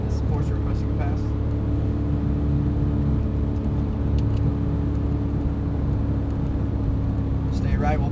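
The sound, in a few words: Porsche 911 GT3 engine accelerating on a race track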